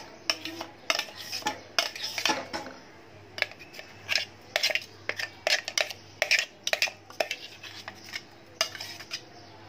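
Ground corn kernels scooped out of a mixer jar into a kitchen vessel, a run of sharp metallic scrapes and clinks of spoon on steel coming in quick irregular bursts, close and clear.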